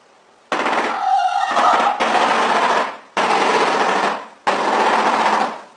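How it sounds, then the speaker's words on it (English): A shoebill stork's bill clattering in four rapid, machine-gun-like bursts of dry knocking, each lasting about a second. The bursts are loud, close and unaccompanied, separated by brief gaps. "Showbill."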